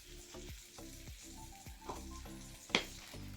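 Tomato and okra sautéing in a pan for an Onam meal, a steady close sizzle with repeated scraping stirs and one sharp clack near the end; no talking.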